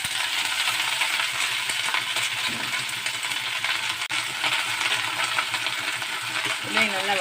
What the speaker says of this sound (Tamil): இதையும் நல்லா வதக்கி விடுங்க.